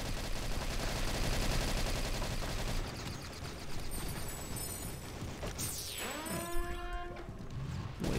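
Rapid bursts of automatic gunfire rattle through a video game firefight in SGDZ, dense and continuous for the first few seconds before thinning out, followed by sweeping whooshing effects and scattered impacts.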